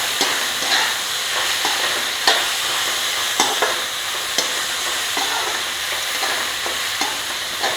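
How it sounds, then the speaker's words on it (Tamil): Grated amla sizzles steadily in a hot pan while being stirred, with a constant frying hiss punctuated by regular scraping and clicking strokes, close and fairly loud, with no talking. "இப்போ இது போடுறேன் திருவண்ண நெல்லிக்காவை"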